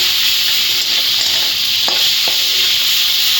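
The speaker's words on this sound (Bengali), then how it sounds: "সব কিছু ভালোভাবে মিশিয়ে নেবো" Maggi noodles are stirred and mixed in a pan, giving a continuous loud sizzling hiss with a couple of soft scraping strokes from the spoon, close up and without speech.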